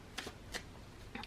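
Oversized tarot and oracle cards are shuffled by hand in three quick, soft riffling bursts, close and quiet, with no talking.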